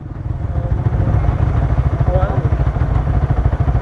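Tuned Yamaha R15 v3 motorcycle with an upgraded throttle body, cams and a tuned ECU, its engine running close and loud with a rapid, even pulsing beat.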